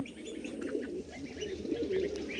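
Soft, continuous cooing from female fancy pigeons, black-tailed or red-tailed, close up, with a few scattered chirps and a brief flutter of wings and no talking.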